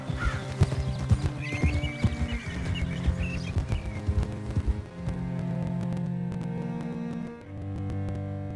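Horse hooves clip-clop in a steady galloping rhythm with a whinny over droning music in Red Dead Redemption 2, riding to Dewberry Creek, the hoofbeats loud and close throughout.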